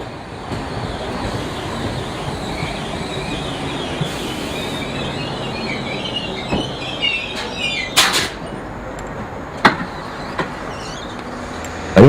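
An old British Rail Class 313 third-rail DC electric multiple unit on Southern local services, rumbling past with a steady rolling drone, a rising squeal, and sharp clacks and crackles near the end.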